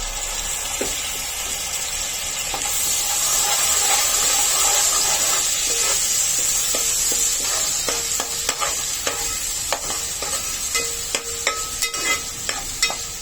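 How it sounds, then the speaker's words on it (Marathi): Green masala paste fries in oil with onions, giving a continuous loud sizzle with steady hissing and, later, clinking spoon stirs and scrapes against the pan. "हिरवं वाटण सुद्धा तेलामध्ये चांगलं परतून घ्यायचंय"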